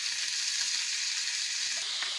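Spices frying in a pan for a fish curry, a soft, even sizzle holding steady across a brief moment, close by and alone.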